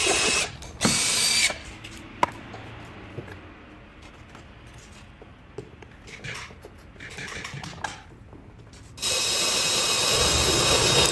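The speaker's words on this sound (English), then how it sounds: "and drilled the pocket holes" Power drill boring pocket holes in wood for a furniture base, heard as loud bursts of motor whine separated by quieter stretches of rattling handling noise, with a long sustained drilling run near the end.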